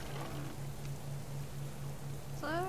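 Steady rain falls in the survival video game Subsistence in cold, miserable weather, a constant soft hiss over a low droning hum, with a short tonal sound at the very end.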